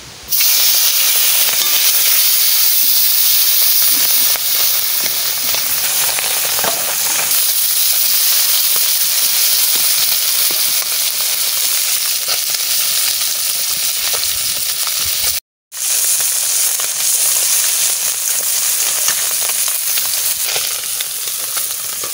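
Singhi fish frying in a pan for a taro and fish curry, a loud continuous hiss and sizzle that cuts out for a moment before resuming.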